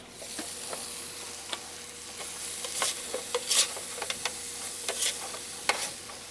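Food sautés in a light garlicky oil coat on a Blackstone indoor griddle at 300 degrees, giving a steady close sizzle punctuated by scattered ticks and scrapes of stirring.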